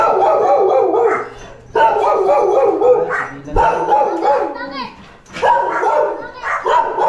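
A dog barks and yips repeatedly, close and loud, in bursts with short pauses, while voices talk over it.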